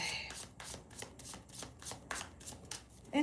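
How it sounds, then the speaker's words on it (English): A deck of tarot cards is shuffled by hand, giving a quick series of soft, crisp riffling flicks in a regular rhythm, close and fairly quiet. "I want to reshuffle again."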